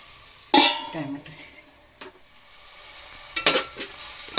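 Tomatoes sautéing in a pan for pav bhaji, with a couple of sharp stirring scrapes and clatters over a soft background sizzle, separated by quieter pauses.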